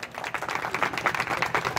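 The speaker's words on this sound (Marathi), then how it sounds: "तुमच्यासाठी सगळ्यांनी टाळ्या वाजवायच्या" An audience at a school batch reunion gathering applauds, a short burst of dense, steady clapping from many hands.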